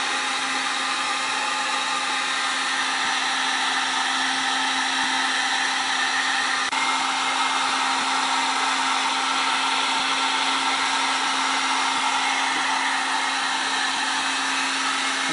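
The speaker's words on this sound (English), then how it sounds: "go borrow her hair dryer, or get a heat gun" A hair dryer or heat gun warms the plastic of a VW Golf or Jetta headlight, giving a steady, loud, continuous blowing whir with a constant motor hum, unbroken for the whole stretch and with no talk.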